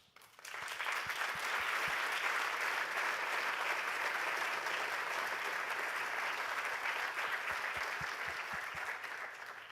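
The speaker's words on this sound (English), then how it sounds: "So I ask for them a round of applause." A large forum audience at JKU Linz gives a sustained round of applause for the Student Council, dense steady clapping that swells in quickly, holds for several seconds and tapers slightly near the end, with no talking over it.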